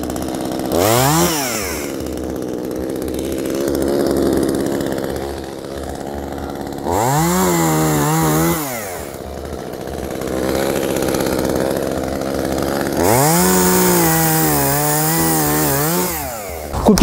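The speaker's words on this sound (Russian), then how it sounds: "Пилу завел." An Echo CS-2511TES top-handle chainsaw, run by an operator up in a tree, revs in three loud surges between a steady idle, each rise and fall of the two-stroke engine clear and close.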